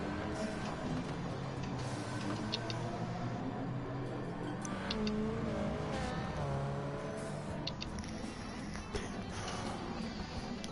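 A muscle car tuned for road racing lapping the Le Mans circuit in a racing game, its engine droning steadily and rising and falling in pitch as it revs through gears, continuous and close.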